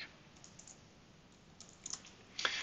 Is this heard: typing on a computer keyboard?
yes